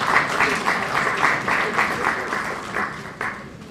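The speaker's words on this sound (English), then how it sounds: "One more round of applause, please." An audience applauds after an election observer mission statement in Kenya, a sustained close wash of many hands clapping with rhythmic swells, fading near the end.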